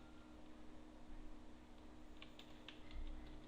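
Code being typed on a computer keyboard: soft, close key clicks scattered over a quiet background hum, clustering toward the end.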